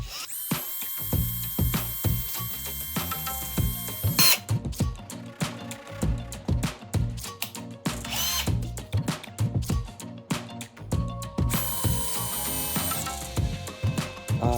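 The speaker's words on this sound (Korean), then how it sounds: "요걸로 여기다가 구멍을 내줍니다" A power drill with a 3 mm wood bit bores a hole in wooden furniture under repair, in repeated bursts of whirring and grinding between ratcheting clicks and short pauses, loud and close.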